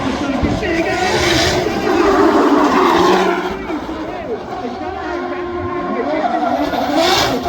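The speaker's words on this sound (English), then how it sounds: "He flicks that car across the circuit." Jack Shanahan's drift car sliding across the Goodwood circuit during a drift competition, engine roaring loud and steady with tyre noise, easing off midway then building again, with commentary over it.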